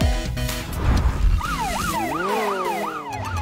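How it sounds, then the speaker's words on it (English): Ambulance siren wailing in a repeated up-and-down sweep, loud and close, following a noisy burst of sound at the start. "The white car with a red cross is an ambulance!"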